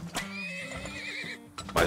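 A horse whinnies in the Turmoil oil-drilling game, a long, wavering neigh with a couple of hoof-like clops and game effects around it, loud and close.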